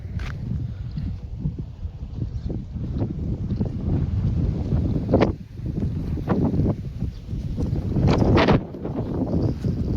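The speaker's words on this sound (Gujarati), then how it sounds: "અત્યારે તો પવને જોરદાર આવે ચડી ગઈ" Strong gusty wind on farmland under cloudy, rainy weather buffets the microphone in a steady low roar, swelling in bursts, with faint intermittent thumps underneath.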